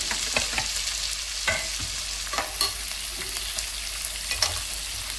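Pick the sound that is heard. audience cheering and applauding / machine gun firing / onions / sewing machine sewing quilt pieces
onions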